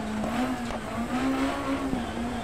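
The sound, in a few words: rally car engine popping in Dirt Rally video game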